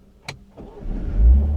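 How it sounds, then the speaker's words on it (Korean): A 2024 Mini Cooper S three-door with an inline-four turbo petrol engine starts up: a short starter chirp, a crank, then the engine catching and rising into a loud, gruff idle close by. "직렬 4기통 가솔린 터보 엔진은 초기 시동 시에 조금 괄괄한 느낌이 살짝 있기는 합니다."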